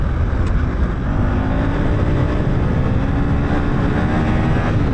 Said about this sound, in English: this is full throttle with the traction control turned on